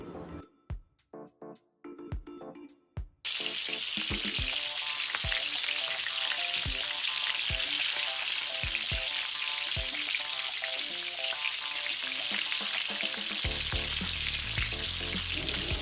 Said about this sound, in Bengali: ডিমটাও বেশ ভাজা ভাজা হয়ে গেছে